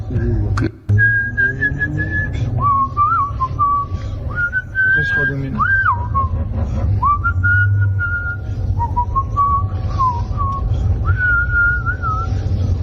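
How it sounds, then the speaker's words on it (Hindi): A man whistles a carefree, meandering tune loudly and close, long wavering notes rising and falling over a low hum, with a brief sharp knock near the start. "बेफिक्र सीटी बजाते हुए, गाना गुनगुनाते हुए"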